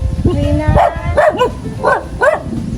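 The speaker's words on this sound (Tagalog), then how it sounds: "Yung aso daw. Ito yung aso." A dog barks a handful of times in quick succession, close and loud, with a low voice murmuring underneath.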